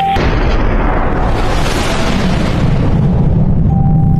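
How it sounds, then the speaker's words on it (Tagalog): A huge man-made explosion like a nuclear bomb test, a sustained loud roaring boom with deep rumble that fills the whole stretch with no voices. "Malaking pagsabog na gawa ng tao mula sa pagtesting ng mga pampasabog tulad ng bomba nuclear."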